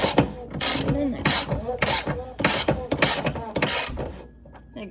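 Ratcheting wrench snugging the oil drain plug on a 2012 Fiat 500, a close run of quick metallic clicks in bursts with short pauses, ending in a quieter tail.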